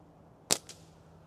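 A slingshot fitted with a band set matched to steel ammo fires a steel ball, giving one sharp snap with a fainter click just after, close and alone in a quiet room.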